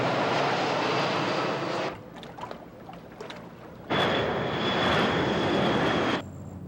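Small airplane passing over a South Minneapolis neighborhood, its broadband engine drone loud for about two seconds, fading to a quiet lull, then swelling back just as loudly for several more seconds.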